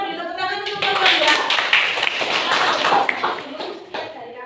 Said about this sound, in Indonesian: kita beri tepuk tangan untuk kelompok ya